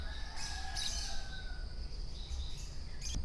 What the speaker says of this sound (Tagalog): Sarap sa tenga ng tunog ng mga ibon.